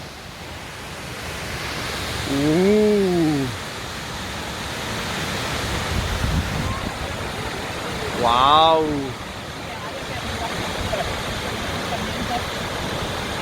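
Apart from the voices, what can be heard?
roar of the Salton waterfall in Lamon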